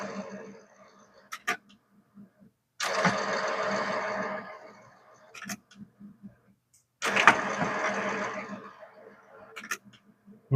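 Rollers of an HP DeskJet 2827e printer spinning during a cleaning cycle, two whirring bursts of a few seconds each separated by quiet gaps, close and fairly loud, with brief clicks between.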